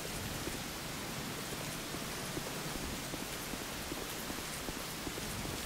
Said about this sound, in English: I hope I can get out of this rain soon